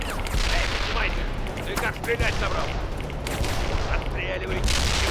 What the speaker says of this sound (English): Bradley, returning fire at hostile.